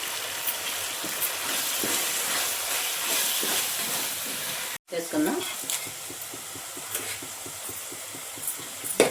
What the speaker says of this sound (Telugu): ఇలా పచ్చి వాసన పోయేదాకా 2 నిమిషాలు ఇలా ఏగనిద్దాం దీన్ని